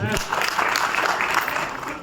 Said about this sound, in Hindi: आपके लिए जोरदार ताली बजाएं